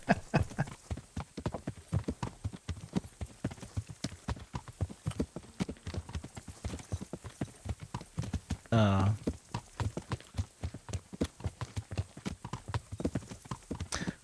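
Horse hooves clip-clopping at a steady gait while riding through the medieval Bohemian countryside in the game Kingdom Come: Deliverance, with an even rhythm throughout and one brief louder swell partway through.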